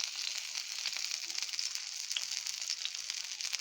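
Egg and cabbage frying in oil with onion, green chilli and coriander leaves, giving a steady close hiss and sizzle with small crackles throughout and no talk.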